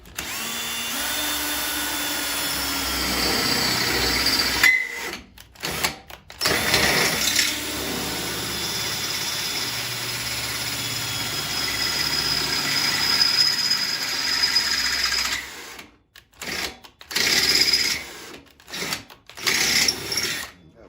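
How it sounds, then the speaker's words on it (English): A power drill whirs in long bursts, grinding through the metal of a Powerhorse 11000ES generator, with short pauses and several quick stop-start runs near the end. "we'll go ahead and get this one drilled out."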